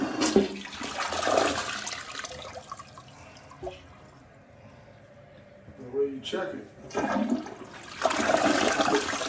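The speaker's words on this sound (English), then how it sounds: "We're gonna do the first official flush." A newly installed replacement toilet flushes with a loud rushing gush, then quieter refill trickling, with a second strong surge of water near the end; someone talks over the quieter stretches.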